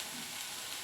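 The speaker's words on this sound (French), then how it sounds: "on va continuer à laisser grésiller un petit peu" Fricassee sizzling steadily in a pan before the broth is added, a continuous close hiss and crackle of frying with no talk.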